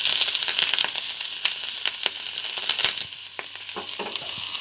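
Curry leaves and coriander leaves frying in hot oil for a tomato chutney, a steady close sizzle with occasional crackles and stirring scrapes, no voices.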